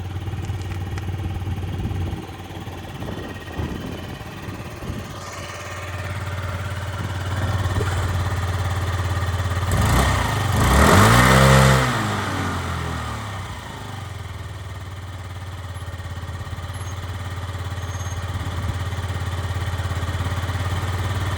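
A Yamaha Vox 49cc fuel-injected scooter idles nearby with a steady buzzing hum, then is briefly blipped into a rising and falling rev before settling back to a slightly high idle, with no talking.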